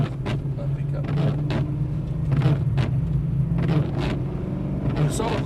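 BMW M3 E92 engine droning steadily on a wet race track, a constant low rumble from inside the car with brief bursts of wet road noise, under talk.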